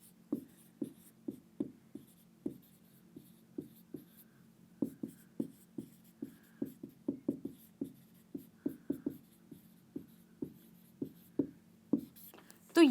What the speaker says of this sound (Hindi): एग्जाम्पल लिखती हूँ।